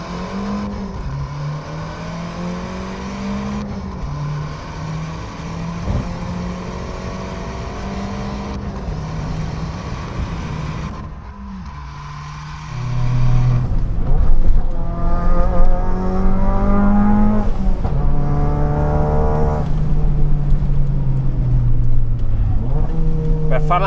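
Fiat 500 Abarth engine revving through gear changes, a steady droning note with rising pitch sweeps and short breaks between shifts, growing louder and busier in the second half, heard from inside the car.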